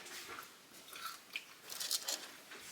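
Crisp bites into caramelized roasted sweet potatoes, a few sharp crunches followed by steady chewing, close and fairly quiet with no talk.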